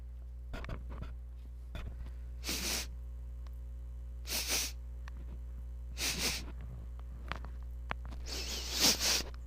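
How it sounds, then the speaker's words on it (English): Several short, sharp nasal sniffs and snorts from an animal just outside a tent on a rainy night, spaced a couple of seconds apart, close by against a steady low hum. "something outside the tent was sniffing"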